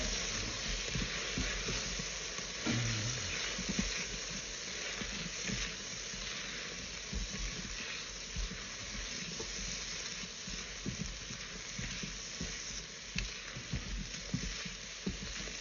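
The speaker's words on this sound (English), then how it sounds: "cook it for around a minute, just get that garlic sweating as well" Garlic sizzles steadily in a pan inside a Pressure King Pro electric pressure cooker, a continuous close frying hiss with light crackles and occasional stirring scrapes, no talking.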